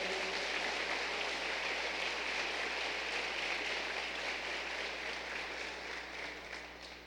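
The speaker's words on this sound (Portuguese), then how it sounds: "pode aplaudir o Senhor." Congregation applause in a church service, a dense even wash of many hands clapping that sounds almost like rain, slowly fading near the end.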